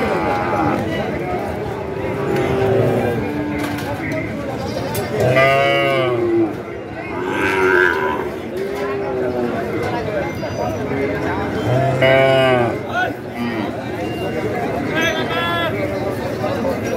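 Sahiwal breed bull calves at a busy cattle market, with several loud moos rising over constant crowd chatter and bargaining voices.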